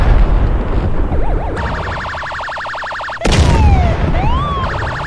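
A grenade detonates in the air in a GTA game with a loud, sharp boom that cuts through a steady synthetic alarm-like tone, followed by whistling tones, with no talking.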